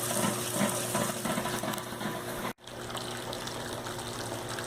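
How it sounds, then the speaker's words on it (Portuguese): Water runs steadily into a vessel during homebrew beer sparging, filling with a continuous gushing rush that briefly cuts out midway, then resumes at the same level. "Vou encher de água para daí transferir o mosto secundário."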